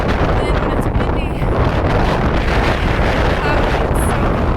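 Strong wind gusts buffet the microphone on a hiking trail, a steady loud rushing roar that fills the whole clip with no break.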